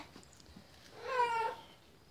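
Cats meow at a chicken coop door, one clear drawn-out meow rising loudly in the middle after faint earlier sounds, heard fairly near with no talk over it.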